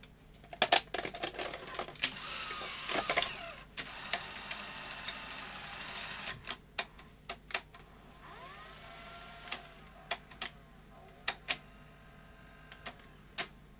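A Sony SL-HF100 Beta HiFi video recorder's mechanism runs, with a motorized whirring hum for a few seconds followed by scattered mechanical clicks and clunks, close and fairly quiet.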